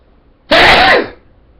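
A single sharp, loud sneeze bursts out up close, brought on by sniffing crushed zinc pill powder, then fades into quiet.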